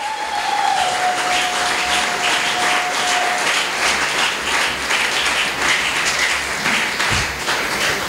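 A church congregation applauding, a dense, steady roar of many hands clapping together that stays loud and even throughout.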